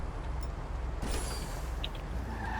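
A car engine in GTA 5 Online gives a steady, close rumble with a constant hiss that runs unbroken through the whole stretch, with no talking over it.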